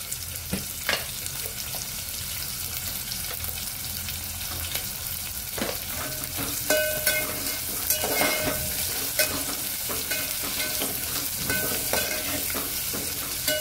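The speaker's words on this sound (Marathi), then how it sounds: "कांदा छान परतून घ्यायचा तांबूस रंग येईपर्यंत।" Salted onions stirred in a pan and frying until reddish brown for biryani, a constant close sizzle with irregular spoon scrapes and taps scattered throughout.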